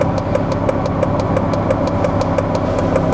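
A boosted Honda Civic FG2 engine pulls steadily from inside the car, a continuous mid-pitched drone with a regular rhythmic chatter riding on top, holding constant loudness throughout.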